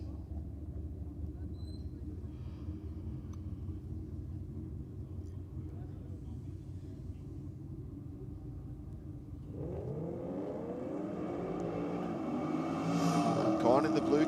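Two Holden VE Commodore drag cars at Sydney Dragway, a low engine rumble at first, then rising revs and accelerating roar as they launch down the strip, growing louder toward the end.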